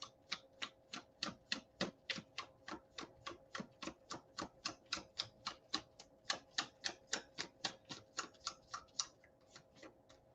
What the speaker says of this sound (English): one more shuffle here for Alessandra